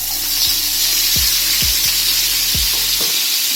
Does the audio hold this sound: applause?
no